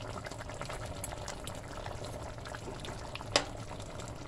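Frozen okra goes into a pot for a steamed fish head and okra coconut curry, with a steady bubbling, pouring hiss throughout and one sharp clink near the end.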